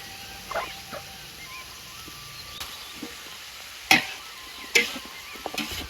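Fish, lemuru, frying in a pan in a home kitchen, a soft steady sizzle running throughout with occasional sharper pops and crackles, a few louder spits standing out near the end.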